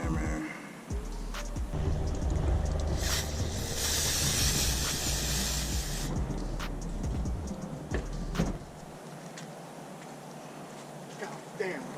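Throttle body cleaner sprays from an aerosol can onto a Mustang engine in a sustained hiss lasting several seconds. It sits amid nearby handling noises and a voice talking in the background.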